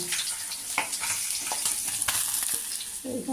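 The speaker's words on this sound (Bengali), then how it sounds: "মাছগুলো আমি হালকা করে ভেজে" Pabda fish lightly frying in hot oil: a close, continuous crackling sizzle with a few sharper pops and a spatula knock near the end, and no voices.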